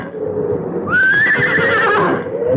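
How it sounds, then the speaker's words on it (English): A horse gives a loud, close neigh, a rising then shaking whinny lasting about a second, over a low murmur of background sound. "back to my horse, to my old friend, who stood patiently tethered, waiting for me"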